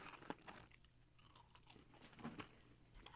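Crisp crunching and biting of Wendy's French fries, a few close bites with short dry crackles in quick succession, no talking.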